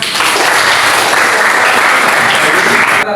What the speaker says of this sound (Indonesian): Bagus ya, tepuk tangan.